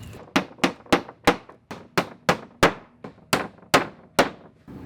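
A hammer drives nails into wooden fence gate boards in twelve sharp, evenly spaced strikes, close and loud, each blow ringing briefly before the next, with no talking.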